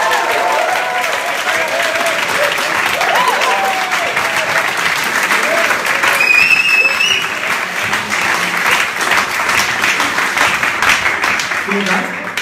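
Loud, steady applause from a large audience at a live event in Berlin, a dense continuous crowd clap with some cheering and voices mixed in throughout.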